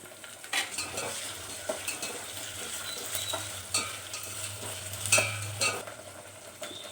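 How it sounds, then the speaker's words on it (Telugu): Ginger garlic paste frying in a pan, cooking before bitter gourd pieces are added for a tamarind curry, with a soft, steady sizzle and light, quick stirring scrapes and spoon taps. "ఒక్క నిమిషం అల్లం వెల్లుల్లి పేస్ట్ పచ్చివాసన పోయేంత వరకు వే వేగనివ్వండి"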